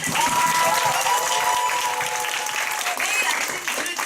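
Audience applause at a Nu Skin group meeting, a steady, dense clapping that fills the room and holds at full strength for the whole stretch without fading.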